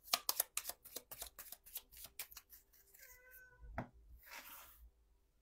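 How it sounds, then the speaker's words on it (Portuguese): A house cat meows to be let outside, a short plaintive meow amid a rapid run of shuffling cards and rustling handling noise, all faint and close. "Ah, agora meu gato resolveu querer sair."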